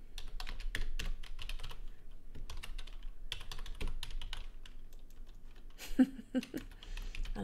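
Fast typing on a computer keyboard at close range, with rapid clustered key clicks in short bursts and brief pauses, then a louder keystroke near the end, heard alone without talk.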